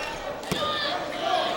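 A single sharp clang as a basketball hits the rim during a 2009 high school game between Lakewood and Clearwater, heard briefly over crowd noise in a gym.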